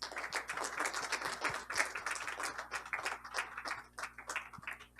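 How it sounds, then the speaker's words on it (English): Steady applause from an audience fills a banquet hall, a dense patter of many hands clapping at a moderate, distant level throughout. "many very special thanks to Marcus, and a round of applause, please."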